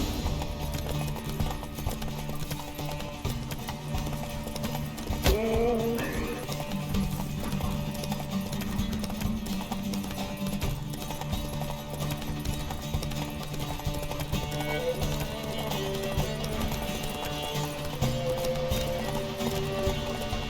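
Roach the horse's hooves clip-clop at a steady walking pace in The Witcher 3, layered over continuous game music and ambience, with a brief whinny-like flourish near the middle.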